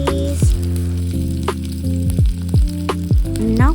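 Garlic and then green chilies hit hot oil in a pan of curry, giving a steady close sizzle and frying crackle with several sharp drops and clatters from stirring and adding ingredients. No one speaks.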